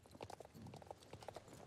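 Fast horse hooves clip-clop in a steady galloping rhythm in the video game Star Stable, close and fairly loud, with a brief bit of low voice underneath.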